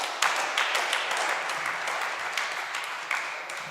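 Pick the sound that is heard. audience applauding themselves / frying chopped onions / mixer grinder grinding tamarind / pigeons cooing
audience applauding themselves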